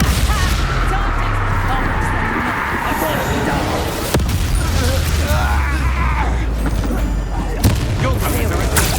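Confringo spell blasts in the Hogwarts Legacy video game crackle and boom amid continuous dense combat noise, with sharp impacts standing out at several moments while voices talk over the din.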